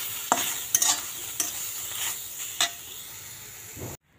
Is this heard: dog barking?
no